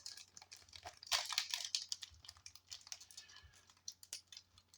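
A Yu-Gi-Oh! booster pack is torn open close by, with crinkly foil tearing and rustling that come in quick bursts and small crackles, no talking.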